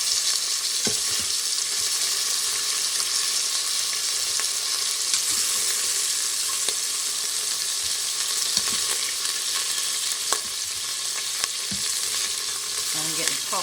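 Beef browns in a pan of hot grease, giving a constant loud sizzle broken by scattered sharp pops and spits, heard close up with no talking.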